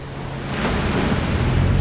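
Rough sea at night around a 23-ton fishing boat setting octopus traps in the East Sea, heard as a loud, blustery wash of waves and wind noise that builds and churns steadily.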